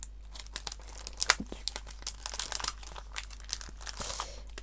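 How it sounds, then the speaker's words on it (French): Paper crumples and tears in close, irregular bursts of crisp crackling, some sharper crunches standing out over a quiet background hum. "c'est sûr que vous n'allez pas forcément bien entendre, à part le bruit du papier"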